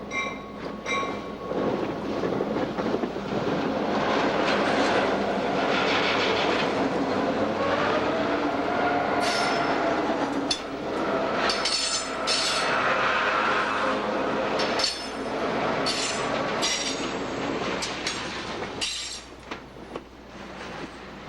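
A locomotive-hauled freight train works the Siskiyou mountain grade with a steady, loud rumble of engines and rolling cars, rhythmic wheel clatter and brief squeals, staying close throughout without voices.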